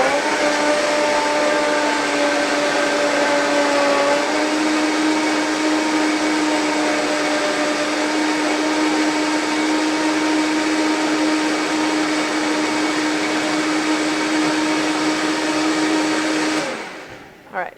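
A Vitamix blender purees a fall vegetable mixture toward a silky smooth texture, its loud steady motor whine running continuously at close range before cutting off abruptly near the end.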